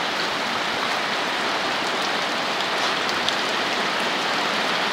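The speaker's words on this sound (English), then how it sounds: "You can see the flood, the height of water here." Floodwater covers a road after rain in Umuahia, Abia State, giving a dense, steady rushing and splashing wash of water, close and loud throughout with no voices.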